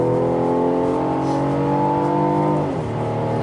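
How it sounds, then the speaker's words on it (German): A Mercedes-Benz E-Class Coupé engine hums steadily while driving, heard as a continuous droning tone from inside the car whose pitch shifts and dips near the end. "Was ich komisch finde, ist der Sound vom Motor."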